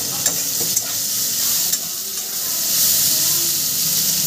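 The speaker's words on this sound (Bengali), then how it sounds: "একটু ভালো করে ভাজবে, তাহলে ডুমুরের যে একটা কচকচ থাকে সেটা কিন্তু চলে যাবে" Pieces of fig fry in a pan with a loud, continuous hissing sizzle, broken by a few soft clicks of stirring and swelling slightly toward the end.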